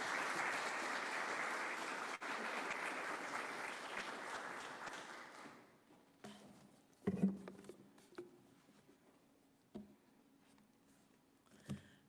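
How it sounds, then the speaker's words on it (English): Sustained applause from a gala audience for a keynote speaker, steady and dense for about six seconds, then tapering into scattered claps, shuffling and a few sharp knocks in a quieter room. "a huge round of applause for our keynote speaker"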